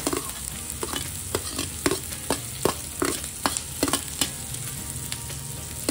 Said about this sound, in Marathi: आता आपण सर्व भाज्या टाकून घेऊया।